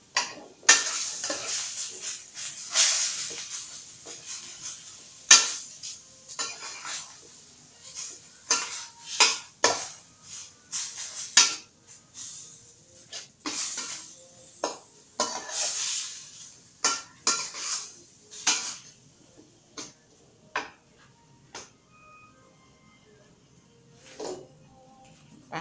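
Beef stir-frying in a pan for panang curry, a string of sharp clanks and scrapes of a utensil against the pan over a faint sizzle, close by, busy at first and thinning out toward the end, no voices.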